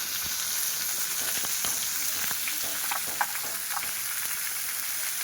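Potato and mango pieces hit a hot pan with salt for a Bengali sour fish curry, giving a loud, steady sizzle and crackle that runs the whole time, with a few soft stirring knocks and no voices.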